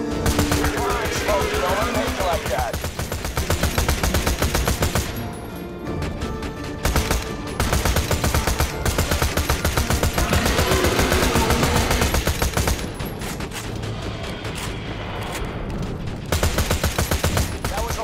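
Rapid gunfire in Borderlands 2 during a fight with a dragon in Tiny Tina's Assault on Dragon Keep, loud sustained bursts with short gaps, under game sounds and voices.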